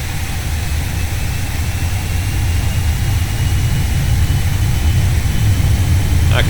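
Twin jet engines of a Boeing 737 Classic roar steadily at takeoff power on the runway at Portland (KPDX) in the X-Plane flight simulator, a loud continuous low rumble with broadband hiss that swells slightly toward the end.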